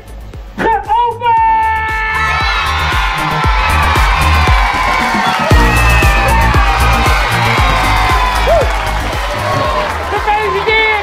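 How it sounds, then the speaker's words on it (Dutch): Children cheer, whoop and clap loudly at a classroom opening ceremony for a class newspaper, a dense excited roar that holds steady throughout with voices shouting over it. "Even een applaus voor Lucas!"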